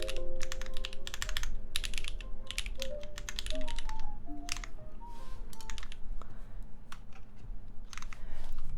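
Steady, fast clacking of keys on a mechanical keyboard rated as an Epsilon board, close and crisp in continuous bursts, with faint background music tones.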